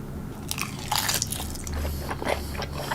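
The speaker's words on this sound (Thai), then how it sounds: "ไหนๆก็ไหนๆละกินแซลมอนซะหน่อย" Someone takes crunchy bites of Korean-style pickled salmon, producing several crisp crunches and wet chewing sounds close to the microphone.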